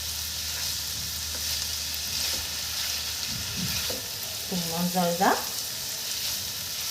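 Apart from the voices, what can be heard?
meat frying with onions in pan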